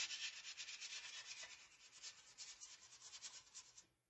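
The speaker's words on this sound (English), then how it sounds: "So I'm going to take my sandpaper and just lightly sand everything" Steady back-and-forth rubbing of sandpaper by hand, a soft rhythmic scratching that continues for several seconds before stopping.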